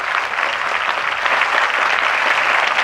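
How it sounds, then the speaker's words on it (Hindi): A crowd at a Congress political rally about student issues in Purnea applauds for Rahul Gandhi, loud, thick and sustained clapping close at hand that fills the whole moment without speech. "तो मैं चाहूंगा कि राहुल गांधी जी के लिए एक बार जोरदार ताली आपकी बजे।"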